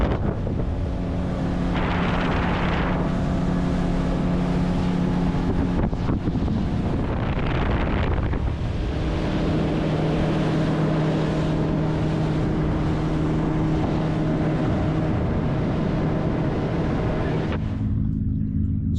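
A fishing boat's outboard motor drones steadily at speed on Moreton Bay, loud and close with rushing wind buffeting the microphone and a few shifts in engine pitch before it drops near the end.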